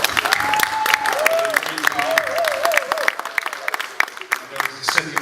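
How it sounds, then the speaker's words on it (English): Audience applause for young future leaders at a keynote address, steady clapping at close range throughout, with a voice carrying over it. "can we give our future leaders here a round of applause?"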